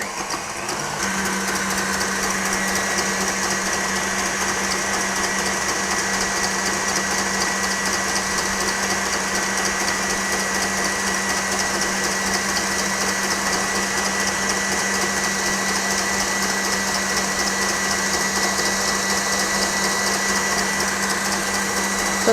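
Electric mixer beats egg whites at medium-high speed for a brown butter cake, a continuous steady whir with a constant hum, loud and close throughout with no pauses.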